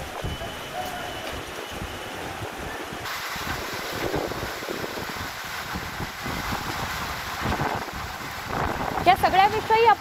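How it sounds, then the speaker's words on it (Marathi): Heavy monsoon rain pours steadily during a thunderstorm, with a broad continuous roar and low rumbles of thunder underneath, while a reporter talks over it. "विजांचा कडकडाट गडगडाट बघायला मिळतोय, मुसळधार पाऊस पडतोय."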